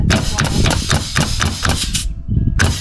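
Repeated hammer strikes, roughly ten sharp knocks in a quick irregular rhythm, close by, with a short pause before a final blow.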